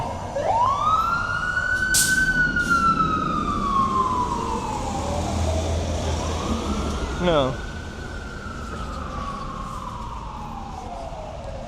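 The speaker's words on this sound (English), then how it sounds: "It's not a good thing to see an ambulance, but it feels like it is part of the stream to call it out." An ambulance siren sweeps slowly up and down on a rainy downtown Los Angeles street at night, loud and close at first, then fading as it passes. Traffic rumbles below it and a voice speaks briefly.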